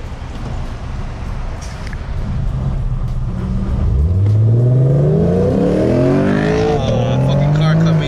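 Lexus cars, including an RC F, accelerate hard from a standing start in a street race. Engines rise in pitch through the gears, loud and close, with people talking over them.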